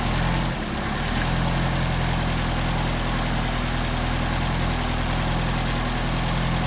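A Mercedes 190SL engine fitted with Solex 44PHH carburetors warms up, idling with a steady, continuous low rumble and hum that stays close and even throughout, with no voices.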